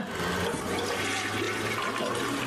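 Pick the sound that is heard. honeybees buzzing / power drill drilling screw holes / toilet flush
toilet flush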